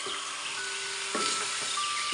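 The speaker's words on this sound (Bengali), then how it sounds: "মাংসগুলো দেওয়ার পরে ভালোভাবে নেড়ে ছেড়ে নিব।" Meat sizzles steadily in a hot pan while being stirred, with a continuous frying hiss and a few soft scraping knocks of the stirring utensil, close and moderately loud.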